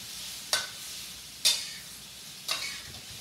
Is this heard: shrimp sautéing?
yes